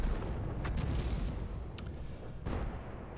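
Heavy booming gunfire from a Hummel self-propelled artillery gun in World of Tanks, with a few sharp blasts over a dense low rumble, loud and close, no voices.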